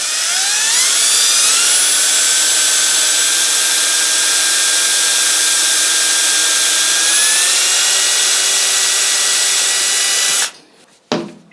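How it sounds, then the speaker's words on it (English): A large power drill spins up and runs continuously at high pitch for about ten seconds, loud and steady with slight pitch shifts, then winds down abruptly, while making parts for a big vintage pressure gauge. "This time we're just going to start out with the bigger drill."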